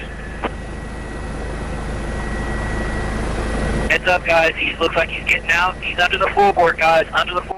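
A Texas DPS police helicopter flies overhead with a steady rotor and engine drone that fills the first half, then continues under a voice speaking over it.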